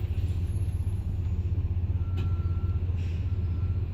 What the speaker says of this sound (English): We'll just wait for the bus to pass.